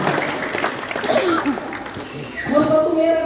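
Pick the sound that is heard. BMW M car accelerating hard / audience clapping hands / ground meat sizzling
audience clapping hands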